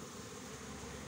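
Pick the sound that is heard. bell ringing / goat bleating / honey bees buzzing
honey bees buzzing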